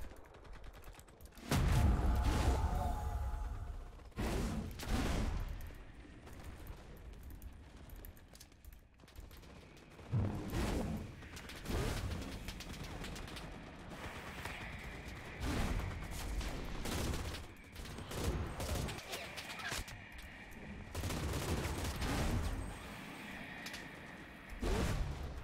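Bursts of gunfire from the online shooter CRSED: F.O.A.D. in a Team Brawl match, repeated rapid volleys and heavy shots with thumps, loud and continuous across the whole stretch with no talk.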